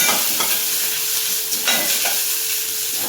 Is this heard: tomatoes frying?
yes